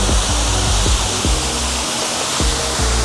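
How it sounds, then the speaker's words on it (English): Loud, steady rush of a waterfall pouring into a pool at a Singapore hotel, a dense constant roar with faint thumps underneath. "A nice waterfall."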